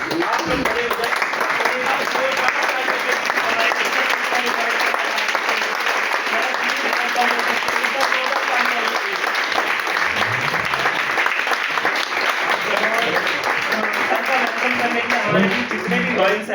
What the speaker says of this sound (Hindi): एक बार ऐसी पर्सनैलिटी के लिए खड़े होके जोरदार तालियां होनी चाहिए